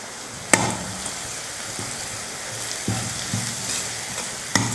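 Chopped onions, curry leaves and coriander sizzle steadily in a pan for dosa batter, with a few sharp clanks and scraping stirs of a spoon against the pan, close and moderate.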